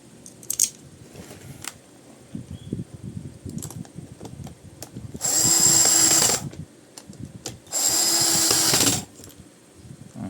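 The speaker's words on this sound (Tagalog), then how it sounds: "Meron tayong gamit na cordless drill." A cordless drill runs in two steady whirring bursts of about a second and a half each, close and loud, while fitting a bearing on an electric motor armature, with clicks and handling noises between bursts.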